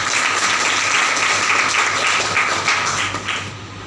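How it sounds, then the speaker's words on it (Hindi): Loud, sustained applause from a crowd at a motivational training seminar, dense steady clapping throughout that fades slightly at the end. "ग्रेट, एक बार जोरदार ताली हो जाए।"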